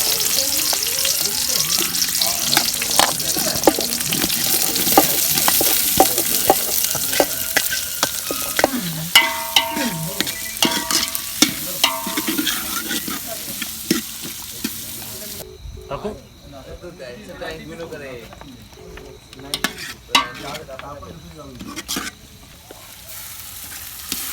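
Onions frying in hot oil in a pan over a wood-fired village stove: a loud, steady sizzling hiss for about fifteen seconds, then a quieter, sparser crackle with occasional sharp clinks and stirring sounds.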